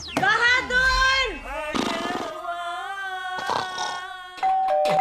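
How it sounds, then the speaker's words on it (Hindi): A doorbell in a Hindi comedy TV serial chimes several times in quick succession, its ringing tones mixed with cartoonish sound effects and bursts of noise. "घंटी क्यों बजाए जा रहा है?"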